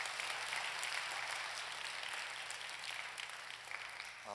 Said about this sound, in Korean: 여러분 크게 박수로 환영하십시다.